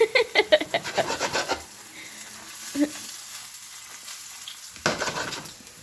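Butter sizzles and fries in a hot pan with scraping and tapping from a utensil, loud at first and then settling into a softer, steady crackle.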